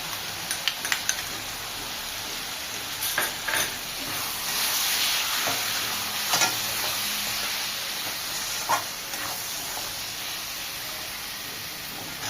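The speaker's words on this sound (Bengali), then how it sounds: "এবার আমি রসুন আর রাই বাটাগুলো দিয়ে দিলাম।" Garlic and mustard paste hits a hot pan during cooking of a Bengali-style ash gourd curry, giving a steady, moderate sizzle and hiss with a few brief stirring clatters throughout.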